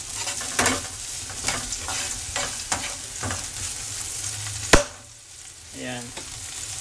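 Onions sautéing in margarine with a steady sizzle, stirred with a utensil in repeated scraping strokes and one sharp clack partway through; close and alone.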